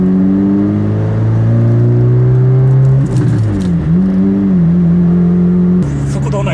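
A custom Honda Fit 3 RS fitted with aftermarket coilovers, driving along Takao Parkway, its engine drone rising steadily in pitch as it accelerates and then leveling off at cruise, loud and continuous from inside the cabin.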